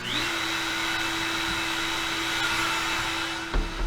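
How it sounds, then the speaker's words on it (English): An X-Carve CNC spindle spins up and runs at a steady high-pitched whine with a constant motor hum, loud and close, ending in a brief knock. "So now we'll power on our spindle and close the door."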